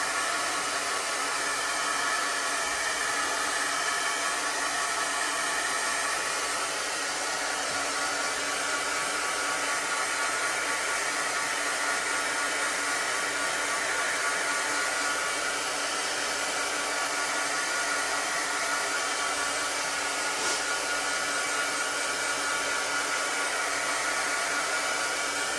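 A hair dryer blows steadily and loudly at close range to dry a chalk transfer on a metal chalkboard, a constant whooshing roar that runs unbroken for the whole stretch with no talk over it.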